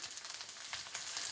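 Tomatoes hitting a pan of frying masala set off a soft, continuous sizzle and crackle that runs for about a second and a half.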